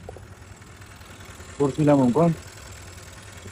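A scooter engine with a rebuilt motor idles with a low, steady hum throughout, while someone speaks briefly over it partway through.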